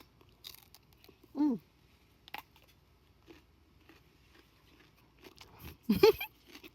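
A home-grown garden vegetable bitten and chewed, giving two sharp crunches several seconds apart with softer chewing clicks between them, close to the listener with no speech.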